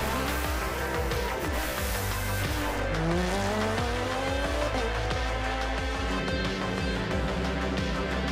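A Porsche race car doing burnouts on closed city streets, with a continuous loud engine roar and rising, wavering tire squeals and skids over the full stretch.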